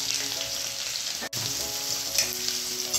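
Curry leaves, green chili and pounded ginger and garlic frying in oil for a baby prawn masala, a loud, continuous close sizzle with a brief dropout and a few faint clinks, no talking.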